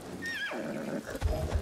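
Horse in the video game Ghost of Tsushima gives a single loud descending whinny that trails off, followed by a couple of low thuds like hoofbeats.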